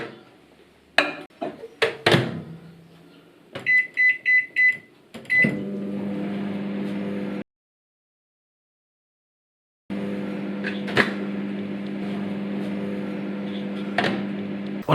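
A microwave oven heating cauliflower rice starts with clicks and beeps from the door and keypad. A steady close hum follows, cuts off into a few seconds of silence, then resumes with a few faint clanks.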